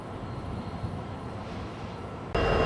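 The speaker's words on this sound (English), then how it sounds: "It looks like it was to let this other train come by that's coming toward us." An oncoming train rolls past on a railroad line where two sets of tracks converge into one, giving a steady, dense rumble of wheels on rail that jumps suddenly louder and brighter near the end.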